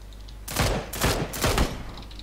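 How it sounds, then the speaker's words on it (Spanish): Mini 14 rifle gunshots in PUBG, three sharp reports about half a second apart, loud and close, each trailing into a short decay with no talk over them. "Tío, llevas 3 tiros de mini 14."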